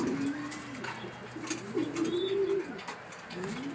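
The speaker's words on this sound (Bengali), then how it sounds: "কবুতরটা অনেক ছটফট করতেছে ভাইয়ের হাতে" A racing pigeon held in a hand, close low cooing calls repeated over a few seconds, with faint chirps and light rustling in the background.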